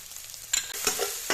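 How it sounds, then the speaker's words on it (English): Instant ramen noodles tossed in a pan with soy sauce and oyster sauce, giving brief soft sizzling and stirring scrapes close by, with a couple of short louder bursts and no talk. "Mix and toss everything together until it is evenly combined."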